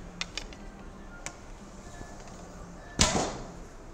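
An Akos Tarim bow, drawn Mediterranean-style to 28 inches with lightweight arrows, releases a shot with a sudden loud snap and thrum after a few faint clicks while nocking and drawing.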